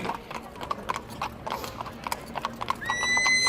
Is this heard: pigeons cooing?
no